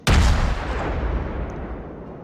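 A single powerful salvo from warship naval guns in World of Warships, a sharp loud boom with a deep rolling tail that gradually decays over about two seconds.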